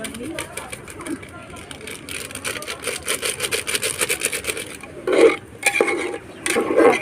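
Mutton curry with masala stirred in a pot at home, a steady scraping and rubbing of the spoon against the metal that grows rougher toward the end, with talk over it.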